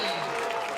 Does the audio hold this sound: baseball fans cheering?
yes